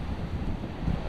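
Strong gusty wind over a rough surf break on a beach along the Darien coast, a loud continuous roar buffeting the microphone with rumbling surf beneath.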